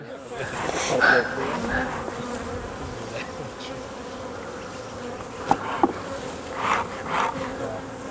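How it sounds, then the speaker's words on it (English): A continuous dense hum of many honey bees buzzing close by at an open hive being handled, with a few soft knocks and rustles mixed in. "The hive itself, yeah, there's that many more bees."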